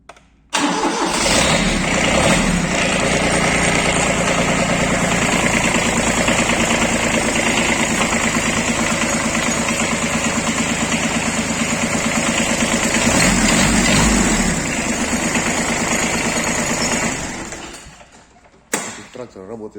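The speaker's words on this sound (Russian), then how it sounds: "Трактор работает замечательно, заводится хорошо." A Kubota Aste A-14 mini tractor engine cranks, catches and runs at a steady, loud rattling idle for most of the stretch before winding down and stopping near the end.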